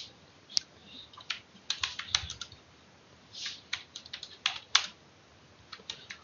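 Typing on a computer keyboard while writing a Python application, heard as irregular bursts of close, crisp key clicks with short pauses between, and no voices.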